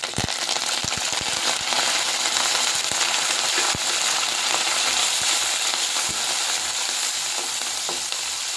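Green chillies, garlic and curry leaves sizzle and crackle in hot oil in a pan, a dense steady fry with scattered sharp pops throughout, loud and close with no voices.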